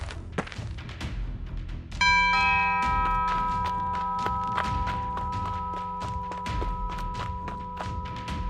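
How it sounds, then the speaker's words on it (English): A doorbell chime rings out loud and close, its tones sustaining and slowly fading over several seconds, with scattered thumps and taps before and during it. "Someone rang the doorbell."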